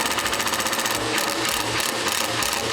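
An impact driver rattles out T25 screws from the clutch helix of a Polaris RZR Trail S 1000, a steady, loud, close mechanical hammering that runs continuously with a pulsing beat.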